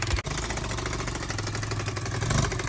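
A 2008 Kawasaki quad engine runs rough and uneven, a steady close mechanical drone with a short dropout near the start and a slight swell toward the end.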